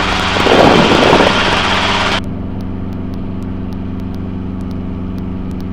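Helicopter in flight during a training lesson: a loud, dense broadband roar with a low rotor hum, which drops abruptly after about two seconds to a steadier, quieter cabin drone with faint periodic ticks.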